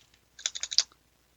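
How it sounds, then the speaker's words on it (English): A short, quick burst of about six keystrokes on a computer keyboard, close and crisp, with silence before and after. "let's actually maybe like type in some other stuff in here"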